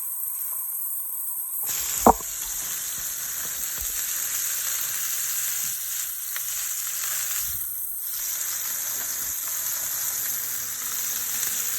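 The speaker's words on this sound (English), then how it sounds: "You want to hear that nice searing sound." A steak goes into a smoking-hot pan and breaks into a steady loud sizzle that carries on unbroken, with a brief clank of contact at the start.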